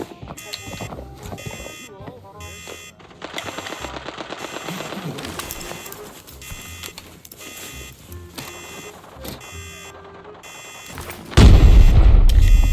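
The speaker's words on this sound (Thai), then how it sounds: "โอเคมีเสียงยิงฝั่งโน้นนะครับผม ถ้าได้ยินเสียงปืนแบบนี้ก็จำทิศทางไว้ดีๆนะครับ" Rapid bursts of automatic gunfire crackle in rhythmic volleys with gaps between, ending in a loud heavy blast that rumbles, in a video game.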